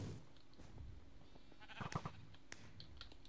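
A sheep bleats in the video game Minecraft, a short wavering cry at low volume, followed by faint clicks like keyboard typing with no talk over it.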